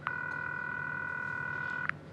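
A phone call rings out as a single long, steady electronic tone lasting about two seconds, faint and alone against low background hiss.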